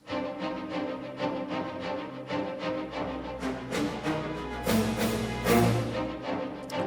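Full orchestral passage with low sustained cello and repeated accented hits from snares, bright piatti cymbal crashes swelling near the end, loud and close with no voices.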